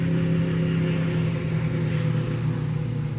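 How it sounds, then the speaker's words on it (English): Motorcycles rumble past on a road near a village park at Mangrove Mountain, a steady loud engine drone with a low humming tone that holds throughout without talking. "here come a couple more bikes"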